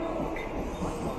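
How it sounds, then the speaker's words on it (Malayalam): Mumbai suburban EMU local train running, heard from on board as a steady, dense rumble and rattle with faint clickety-clack and wheel noise, continuous and close throughout. "ഒരു ലോക്കൽ ട്രെയിൻ യാത്രയാണ്"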